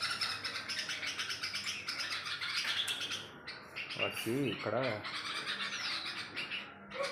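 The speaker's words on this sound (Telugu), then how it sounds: "ఇది ఇక్కడ ఈ పిట్ట, ఒకటి ఆడపిట్ట, ఒకటి మగ పిట్ట, 2 పిట్టలు వచ్చినాయి." Small birds chirp and twitter continuously in the background, with a short burst of louder calls and a brief spoken phrase.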